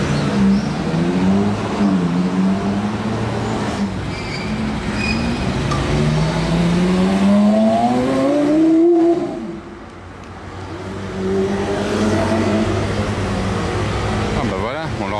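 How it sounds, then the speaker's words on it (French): A V10-engined car passes close by on a busy street among other luxury cars and SUVs, its engine note rising as it revs past over continuous traffic noise, with voices talking underneath. "on l'aura entendu là, le V10 comme ça"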